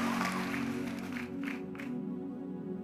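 Audience clapping at a church conference morning session, a steady wash of applause running throughout, mixed with a sustained musical or organ-like drone underneath.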